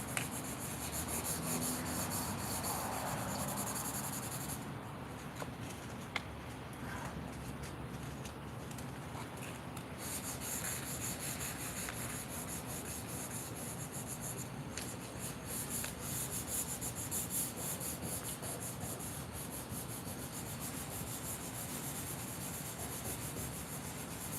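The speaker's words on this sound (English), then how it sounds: "we'll use this part of the sandpaper now" Sandpaper rubbed by hand over the body of a Dodge Dart car gives a steady, close, continuous rasping scrape that carries on for the whole stretch with no talk.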